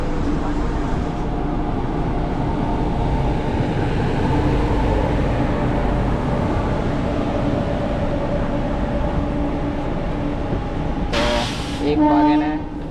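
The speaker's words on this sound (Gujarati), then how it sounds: "આપણી ટ્રેન વલસાડ સ્ટેશન ઉપરથી ડિપાર્ચર થાય છે" A train departing Valsad station makes a continuous loud rumble of wheels and carriages, then a short sharp horn blast near the end.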